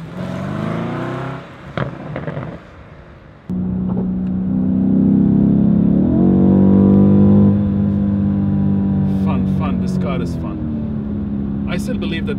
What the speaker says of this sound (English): Listen to that exhaust, guys. It rumbles. I love this exhaust.